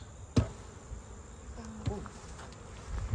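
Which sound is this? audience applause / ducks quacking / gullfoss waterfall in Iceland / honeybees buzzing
honeybees buzzing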